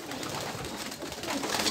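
Racing pigeons cooing softly at the loft as birds return from a race, low repeated coos over a steady background hiss, moderately distant.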